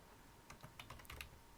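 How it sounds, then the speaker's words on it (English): A short burst of computer keyboard typing: a handful of quick, light key clicks in an uneven rhythm, close and moderately quiet, with no voices. "So I'm going to type in scppass,"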